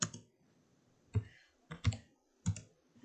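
Keys tapped on a computer keyboard while entering numbers for a metal nameplate design in CorelDRAW, giving a few sharp, close clicks in uneven bursts about half a second apart.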